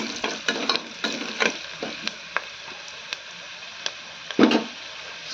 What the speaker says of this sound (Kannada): ಒಂದು ಸರ್ತಿ ಮಿಕ್ಸ್ ಮಾಡ್ತೀನಿ